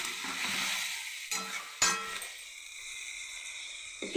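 Water poured into a pan of frying cauliflower curry sets off a loud hiss and sizzle that swells, breaks off with a couple of clinks from the pan and settles into a quieter, steady simmering fizz.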